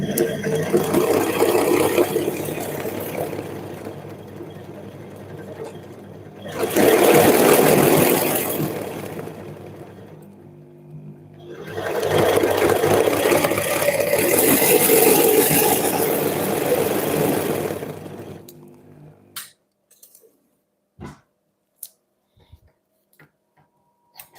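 Electric whisk beating meringue in a bowl, two long loud whirring bursts with a pause between, then clicks and brief knocks as it stops.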